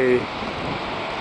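Ocean surf below the sea cliffs of Sagres on the North Atlantic coast gives a steady, broad wash of wave noise with wind, constant and moderately loud throughout.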